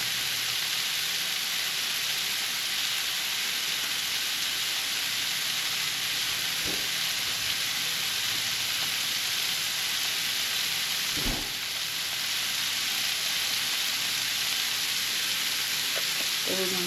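Kerrygold butter sizzles steadily in a hot pan, a constant bright frying hiss with a couple of soft clinks partway through and no talking.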